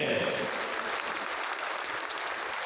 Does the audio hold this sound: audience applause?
yes